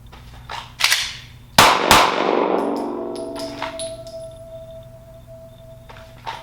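Handgun shots at an outdoor shooting range, two loud sharp cracks fired close together, each followed by a ringing metallic decay and quiet clinks.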